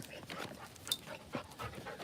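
A dog pants softly with a few faint whimpers, close by and quiet, with a voice talking intermittently around it.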